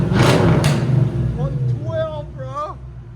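A 1990 Ford Mustang GT with a 5.0L V8, SLP Loudmouth exhaust and high-flow cats gives a loud, close rev that fades into a rumbling idle, while people talk briefly over it.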